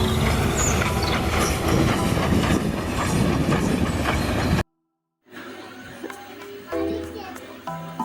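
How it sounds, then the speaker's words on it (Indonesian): An old coal-fired steam train runs with loud, dense rumbling and clatter for several seconds. After a short gap, quieter rail noise continues while a voice talks over it. "Kereta api zaman dulu bahan bakar batu bara, jadi kereta api uap."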